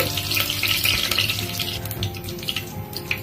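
Mustard seeds and cumin sizzle in hot ghee inside a pressure cooker for Navaratri prasadam, giving a steady close hiss with faint crackles and a few stirring scrapes throughout.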